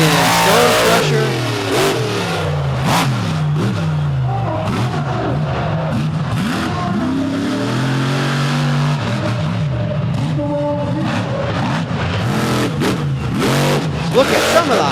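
Stone Crusher monster truck at a monster truck event in Charlotte, NC roars loud and close, its engine revving and rising in pitch repeatedly over a constant crowd and arena wash, with an announcer talking over it.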